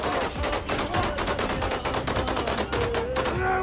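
Sustained rapid gunfire in battle at Mariupol, Ukraine, with dense overlapping automatic bursts, loud and continuous throughout with no pauses.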